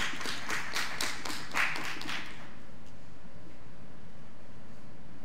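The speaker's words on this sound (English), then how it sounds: "Let's give her a round of applause for her leadership skills" Brief scattered clapping from a small group at a school district board meeting, a couple of seconds of distinct claps that quickly die away into quiet room tone.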